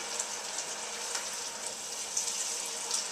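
Red wine poured into a pot of homemade marinara sauce, a steady liquid splash and trickle lasting a few seconds, close and fairly quiet.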